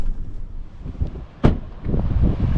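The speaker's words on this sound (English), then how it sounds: "It's a little windy." Wind gusting at Trinidad State Beach on the Humboldt coast of California during a winter storm break, a steady low rumble of buffeting against the microphone with one sharp gust near the middle, no voices.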